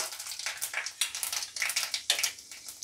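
Panch phoron seeds crackling in hot oil in a pan with dried red chillies, khichdi being made; irregular sharp pops and bursts of sizzle come close and moderately loud, with no talk.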